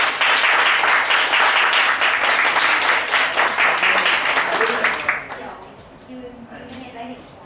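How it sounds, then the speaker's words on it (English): An audience at a free workshop claps loudly for the speaker in dense sustained applause for about five seconds, then it cuts off and quieter murmuring voices follow. "please you give a big round of applause for him again"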